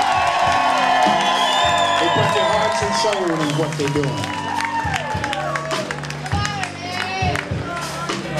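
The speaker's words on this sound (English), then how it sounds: "let's give the band a great big round of applause" Audience applause, whoops and cheering for a blues band rise loudly around a speaking voice, with the crowd noise thinning somewhat as the talk continues over it.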